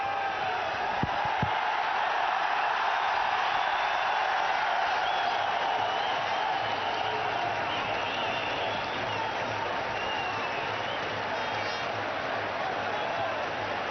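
Large cricket crowd at Sharjah stadium roaring and cheering continuously during a one-day international innings, a dense sustained wash of distant voices and applause with no pauses.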